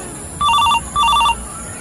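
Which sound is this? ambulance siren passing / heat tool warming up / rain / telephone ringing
telephone ringing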